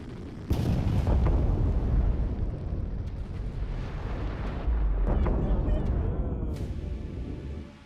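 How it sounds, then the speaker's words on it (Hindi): A missile hits the ground in a sudden heavy blast that gives way to a long, rolling roar that lingers and rumbles before fading. "जमीन पर टकराते इससे जोरदार धमाका हुआ।"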